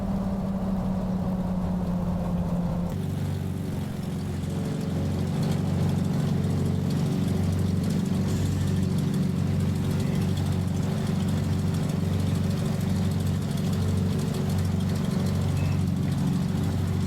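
Piper Seminole twin-engine aircraft idling in Microsoft Flight Simulator, a steady, droning engine hum with a low rhythmic throb, a small shift in tone early on, then holding constant and fairly close.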